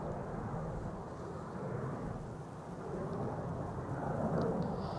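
Delta Airlines Airbus A350 jet at Amsterdam Schiphol Airport, a faint, distant, steady low engine rumble that builds slightly toward the end, with no talk.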